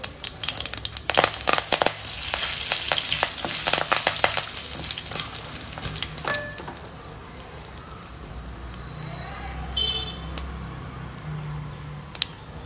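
Curry leaves hit hot oil for tempering a sambar or chutney, giving a loud burst of crackling, spitting sizzle in the first seconds that settles into a softer, steady frying hiss with occasional sharp pops.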